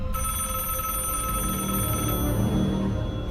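A haunted telephone rings continuously in a short film, a loud, steady electric bell trill with a bright metallic ring and no break.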